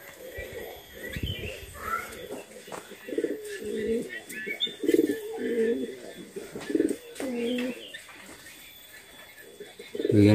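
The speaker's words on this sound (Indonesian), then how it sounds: "Ada burung, sahabat ya." Birds call around an abandoned village, with soft cooing that sounds like pigeons or doves, repeated through the clip while people talk nearby.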